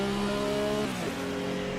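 Race car engine in Assetto Corsa at Mosport, held on the pit limiter in the pits, a steady buzzing drone with stacked harmonics that dips and shifts pitch briefly partway through, loud and close with no talking.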